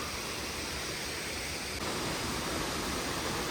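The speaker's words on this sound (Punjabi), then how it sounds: "ਲਓ ਜੀ ਅਖੀਰ ਆਪਾਂ ਉਸ ਝਰਨੇ ਤੇ ਪਹੁੰਚ ਗਏ ਆ" A waterfall at Shangarh in Himachal Pradesh roars as a steady, uniform hiss of falling water, heard alone from start to finish.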